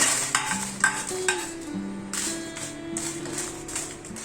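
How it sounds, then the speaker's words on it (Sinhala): Dried red chillies frying in hot oil, stirred and scraped with a coconut-shell spoon, give a steady close sizzle broken by repeated dull scraping taps, loud and without speech. "අපි දැන් ඒ මිරිස් කරල් ටික ෆ්‍රයි කරගමු"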